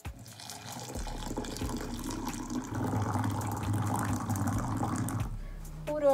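Water being poured into a container indoors, a continuous splashing, filling stream that runs for several seconds at moderate volume before cutting off near the end.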